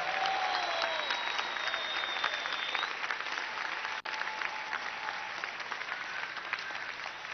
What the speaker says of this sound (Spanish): Mira cómo aplaude aquel niñito que está ahí arriba.